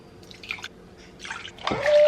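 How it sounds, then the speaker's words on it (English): Breast milk dribbles and splashes in short bursts, then settles into a steady pour into a container, close up. "First thing I do is always pour my milk into here."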